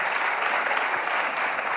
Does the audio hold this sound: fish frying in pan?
no